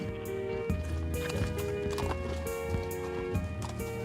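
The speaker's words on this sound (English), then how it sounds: "just riding across the plains, these horses are so strong" Horses' hooves clip-clopping across plains in Iceland in an uneven rhythm over a bed of sustained musical tones, moderately loud with no speech.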